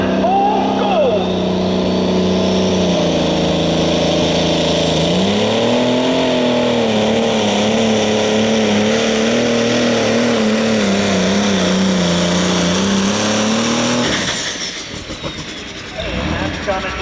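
Minneapolis Moline G1000 super stock pulling tractor at a tractor pull in Ashland, Ohio, a loud sustained engine roar that rises in pitch, wavers under load, then cuts off abruptly near the end, leaving crowd noise.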